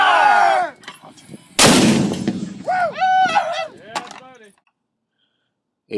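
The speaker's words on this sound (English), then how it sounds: "A 120mm mortar projectile round is shot from the edge of Two Lovers Point Cliff" A 120mm mortar round fires from the edge of Two Lovers Point Cliff, 115 meters high, with one loud broadband blast. Shouted commands come just before it, and voices follow as the sound fades to silence.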